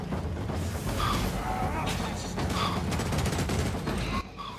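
Rapid bursts of gunfire from a video game, dense and continuous crackling shots up close, with voices talking over them.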